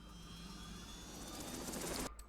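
Helicopter rotor and engine drone in the video game Forza Horizon 5, a steady loud mechanical roar that builds slightly before cutting off abruptly near the end.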